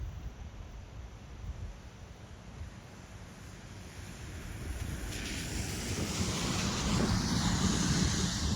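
Broad steady rushing of the Nantahala River flowing, continuous wash with wind noise that grows slightly louder toward the end, no talk.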